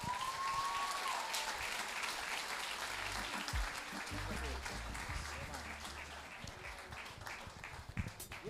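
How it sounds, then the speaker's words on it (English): Sustained, dense applause from a large audience at a secondary school graduation ceremony fills the hall steadily for the whole stretch, loud and even, with some background voices mixed into the crowd noise. "let's give him a round of applause again"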